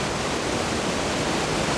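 A waterfall roars in an Alpine gorge in Switzerland: a constant, dense, broadband wash of crashing water, close and loud, with no breaks and no voices.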